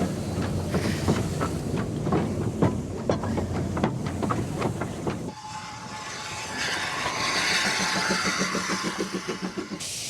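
A narrow-gauge steam train rumbles past with rhythmic clacking wheels, then a steady hiss and whistle-like tone rise as the engine runs on, loud and close.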